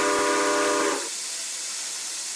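A locomotive steam whistle in the RO-Scale Sandbox railway game gives one chord-like blast that cuts off after about a second, followed by a soft steam hiss that lingers to the end; no voices.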